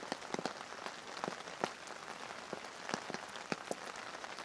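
Rain patters steadily on a campsite canopy in the Pacific Northwest, with fine continuous hiss and scattered louder drips tapping close by, soft and with no talking.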